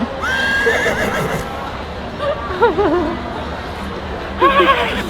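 A horse whinnies in bursts across a few seconds, with rising and falling calls near the start, middle and end over a busy background of murmuring voices.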